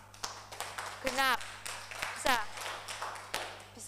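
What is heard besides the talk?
classroom applause for a group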